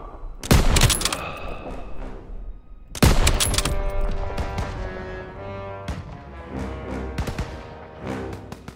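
Heavy gunfire in a Call of Duty WW2 battle: two loud bursts of rapid machine-gun and rifle shots crack out close by, then sustained firing continues under a dense layer of combat noise and distant shots.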